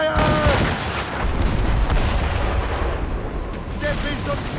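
Ship cannons firing in naval combat in Assassin's Creed Rogue, a dense run of heavy booming blasts and rumble, close and loud, with shouted voices of a crew mixed in.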